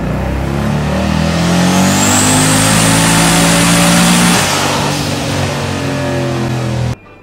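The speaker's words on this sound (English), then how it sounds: "Next up is the Fairmont, but on 25 pounds of boost." A turbocharged Ford Fairmont running on 25 psi boost and high-ethanol fuel screams on an engine dyno, one loud close pull with rising pitch, then a sudden cutoff.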